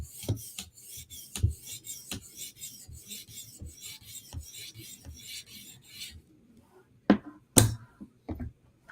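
A knife drawn in repeated light passes across an 800 grit whetstone, a steady run of close, quiet rasping strokes, followed by a few sharper, louder scrapes near the end.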